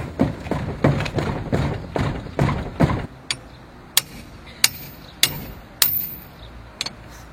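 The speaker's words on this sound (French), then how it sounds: "On va y aller au marteau." Hammer blows on a film set, first a quick run of about eight heavy thumps, then slower, sharper metallic strikes spaced roughly a second apart, loud and close.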